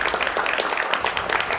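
Dense, sustained applause from a studio audience at a televised political talk show with university students, loud and continuous with no individual claps standing out.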